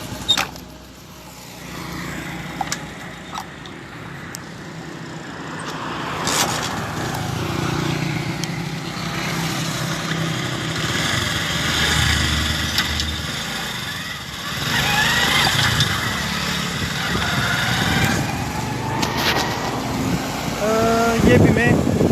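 A motorbike rides slowly along the Attock–Kamra road in Pakistan, its engine a steady, continuous drone close by throughout, with traffic and road noise mixed in.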